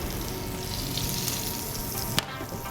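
Butter melts and sizzles in a hot pan with red onion, a steady close frying hiss throughout with a small clatter near the end.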